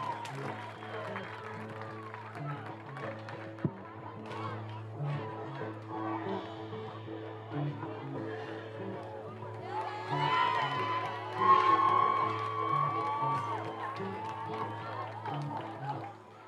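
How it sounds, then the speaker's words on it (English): Crowd at a high school football game between Wayne Valley and Notre Dame applauds and cheers for the Wayne Valley varsity cheerleaders, rising to a louder swell of shouts and whoops midway over a steady low hum. "how about a great big round of applause for your Wayne Valley Indian varsity cheerleaders?"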